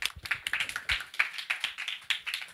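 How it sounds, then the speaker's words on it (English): An audience applauds at a community talk event, a dense, steady patter of many hands clapping close by for the whole stretch. "can you have a round of applause to welcome them up?"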